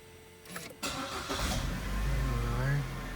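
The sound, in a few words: Holden Cruze car engine starting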